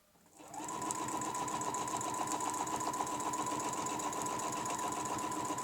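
A sewing machine starts up and runs at an even, fast pace, stitching around a quilting ruler in one continuous close whirring hum with a steady high tone.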